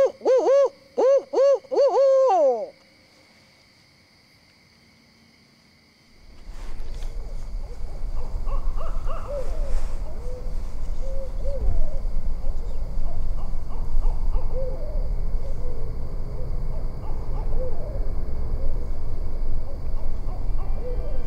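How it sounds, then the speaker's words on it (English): Hoots from a nearby owl at night open the scene as a short series of rhythmic, wavering calls, followed by silence and then a steady rustling, rumbling outdoor background. "One of those sounds, hopefully, is a nearby owl."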